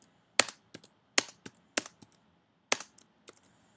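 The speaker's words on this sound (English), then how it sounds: "So we're going to basically type in at the space bar, type space, type space." Keys and the space bar tapped on a computer keyboard: a sparse sequence of crisp, close clicks, some single and some in quick pairs, separated by short silences.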